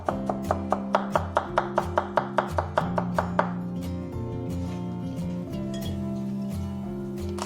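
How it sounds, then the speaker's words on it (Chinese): A knife cuts a carrot into thin strips on a board in a fast, even run of about fifteen crisp chops, then stops, leaving a low steady hum in the room. "然后再改刀切丝"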